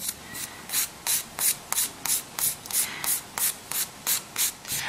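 A nail file rasps back and forth over a broken fingernail in quick regular strokes, about three per second, close and crisp with no talk.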